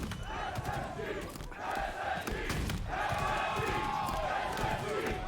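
A crowd at a Halo HCS esports event in Salt Lake City roars and cheers in swelling bursts beneath excited commentators' voices.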